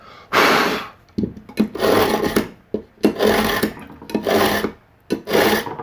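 A knife blade is drawn repeatedly through a knife sharpener, giving harsh, raspy metallic scrapes in uneven strokes with short pauses between, close and fairly loud.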